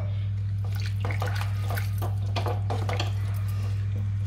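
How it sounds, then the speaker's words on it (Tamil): About a cup of water splashes into a pan of Chettinadu tamarind pumpkin curry, with faint clinks of a cup against cookware. The pouring and sloshing run steadily for a few seconds over a constant low hum. "ஒரு கப் அளவு தண்ணி ஊத்திங்க."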